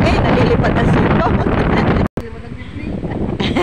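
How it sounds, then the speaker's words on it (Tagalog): Strong wind buffets the microphone in loud continuous gusts, briefly cutting out midway, then resuming with a softer rush. "Hangin, nalilipad na sito."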